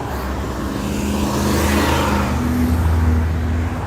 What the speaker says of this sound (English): Get the loud cars going by me, whizzing by.